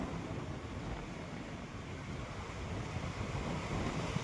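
Sea waves wash against a rocky islet shore near Alibag, forming a steady, close, broadband roar of surf with some wind noise and no talking.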